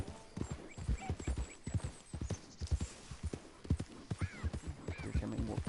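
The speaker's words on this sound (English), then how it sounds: "watch out for them dang doe horses there" Horses in Red Dead Redemption near Rhodes clip-clop along with rhythmic hoofbeats and an occasional whinny, moderately close in a quiet game soundscape.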